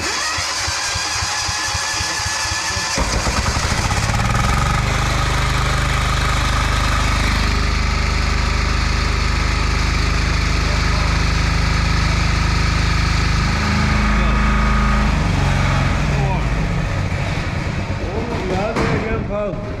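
A diesel engine in a workshop fires up after a few seconds of cranking, then runs with a rough, loud, rhythmic knock at close range before changing pitch near the end, while people talk over it.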